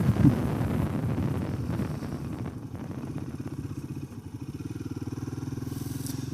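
Royal Enfield Himalayan 450 motorcycle on a test ride, its engine note dropping after a downshift to second gear, then settling into a steady, pulsing drone with wind rush over the microphone.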